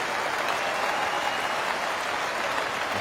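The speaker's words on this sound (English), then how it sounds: "Applause ringing around the ground." A cricket crowd at Trent Bridge during the 2015 Ashes Test between England and Australia applauds across the ground, a steady, unbroken wash of distant clapping with no talk.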